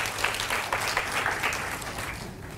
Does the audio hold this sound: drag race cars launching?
no